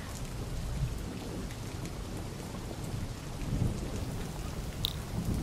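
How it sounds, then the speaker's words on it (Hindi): Heavy rain pours steadily outside with a dense, even hiss and patter and low rumbling underneath, continuous and fairly faint throughout. "बाहर इतनी बारिश हो रही है ना"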